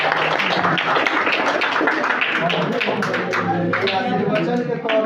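An audience at a Bihar Diwas celebration at a high school in Siwan district, Bihar, claps steadily for a student being honoured with a medal, sustained applause with a speaker talking over it.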